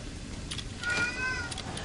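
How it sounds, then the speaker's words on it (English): A cat in the game Fallout: New Vegas gives one drawn-out meow that rises and falls over about a second, fairly close, against a low hiss of background noise. "It's my cat."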